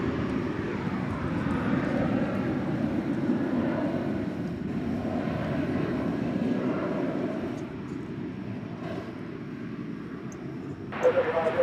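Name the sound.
Airbus A320 airliner at DFW Airport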